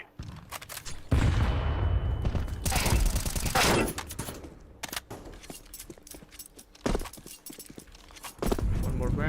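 In a shooter video game, a grenade blast and bursts of gunfire come in sharp, loud clusters, with a heavy explosion-like swell early on and scattered shots and impacts after.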